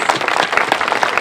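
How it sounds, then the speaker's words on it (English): A crowd claps steadily, a dense patter of many hands applauding together without pause. "a big round of applause for everyone who is brave enough to share their experiences."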